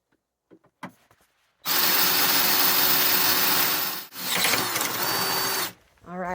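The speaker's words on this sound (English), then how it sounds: "Just going to go little bits at a time so my drill doesn't overheat" A power drill whines loudly and steadily in two long bursts with a brief pause between, grinding through metal, preceded by a few faint knocks.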